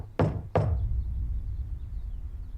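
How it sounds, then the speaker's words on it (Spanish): Two firm knocks on a door, evenly spaced about a third of a second apart, sound close and loud, each with a short ringing decay before a quiet low hum. "tocó a su puerta"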